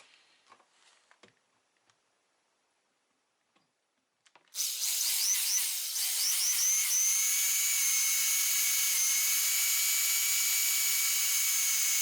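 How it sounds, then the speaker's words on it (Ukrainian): A power drill bores into a Kravchuchka wheelbarrow being repaired and reinforced: a few faint knocks, then a loud, sustained whirring drill that runs continuously to the end. "Ну що, починаємо сверлити."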